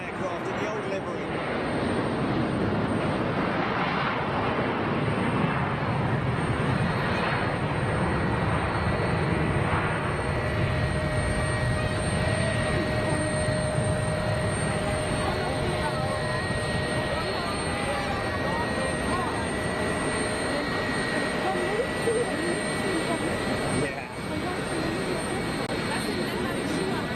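An Etihad Airbus A330 in old livery takes off, its jet engines producing a loud, sustained broadband roar that holds steady for the whole stretch, with a faint tonal whine riding on top.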